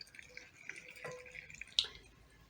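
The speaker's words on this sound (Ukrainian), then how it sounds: "перший раз будемо заливати їх кипяченою водою" Boiled water trickles and splashes faintly into glass jars of pickled tomatoes, with a brief louder clink near the end.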